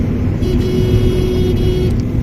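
A Honda Aqua hybrid car on a long drive gives a steady, continuous road and engine drone from inside the cabin, with no talking.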